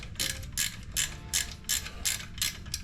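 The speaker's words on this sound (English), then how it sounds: "Gear wrench always goes on wrong." Ratcheting gear wrench clicking through about seven quick, evenly spaced bursts of pawl chatter, close and fairly loud, on a 1980 Camaro engine build.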